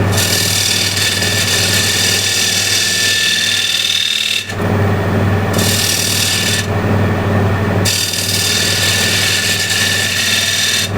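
A 10mm spindle gouge cutting wood on a lathe, a loud continuous rasping hiss over the steady motor hum, with two short breaks where the cut eases off.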